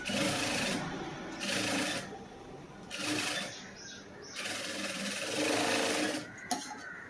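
A sewing machine stitches the front panel of a cross-cut blouse in several loud, close bursts of rapid needle clatter, separated by short pauses.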